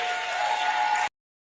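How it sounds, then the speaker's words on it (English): An audience applauds the Tamale Youth Home Culture Group at a cultural heritage event in Tamale: a dense, steady burst of clapping lasting about a second before cutting off abruptly, with a faint steady tone running through it. "Let's give another round of applause to the Tamale Youth Home Culture Group"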